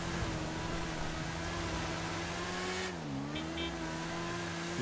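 Yamaha XJ6 F Diversion four-cylinder motorcycle engine in GTA V, a loud, steady high-revving drone that dips briefly in pitch partway through before climbing again.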